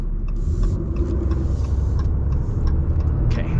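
A 2023 Ram 2500 Big Horn pickup with the Cummins diesel accelerates, heard from inside the cab as a steady, deep engine and road rumble that holds throughout with no talk.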